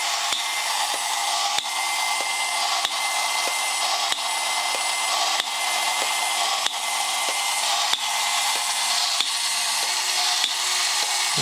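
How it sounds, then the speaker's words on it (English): A 1959 Yonezawa tin toy mobile satellite tracking station runs with a steady mechanical whir, a regular ticking roughly every second and a wavering squeaky tone layered over the drone. "there's also a squeaker in there to add some sort of sci-fi sound to it."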